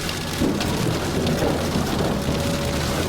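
Heavy rain pours steadily on a surface during a thunderstorm close to a tornado, with low thunder rumbling continuously underneath, loud and near throughout with no voices.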